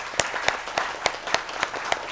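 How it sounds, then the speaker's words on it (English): Audience applause for panelists at the close of a conference session on rural jobs, heard as steady, moderately distant clapping with a few sharper individual claps standing out. "A very big applause to the panelists, but also to the audience."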